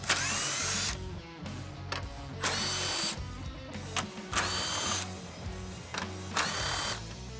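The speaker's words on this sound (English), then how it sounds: "We're gonna use a 10mm socket to take them out." Fasteners along the top of a 2014-2018 Chevrolet Silverado grille being backed out with a 10mm socket on a power tool, in several loud whirring bursts separated by short pauses, close up.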